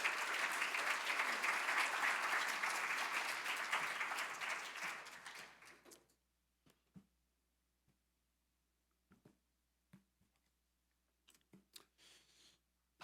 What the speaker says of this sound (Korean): 우리 나오실 때 큰 박수로 맞이하시겠습니다.